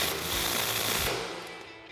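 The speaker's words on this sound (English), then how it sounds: "So now we'll tighten down our tapered side first with our 22mm wrench." A suspension nut is tightened on the front lift kit of a 2017-2025 Ford F-250 Super Duty, giving a short, loud, dense rattling buzz close by.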